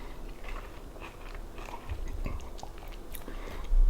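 Someone bites into a crunchy chocolate candy bar close up, and several crisp crunches and chewing sounds follow over a low hiss.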